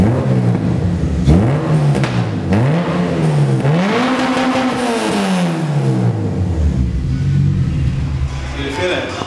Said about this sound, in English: Quieter without the muffler than the one that was previously on there.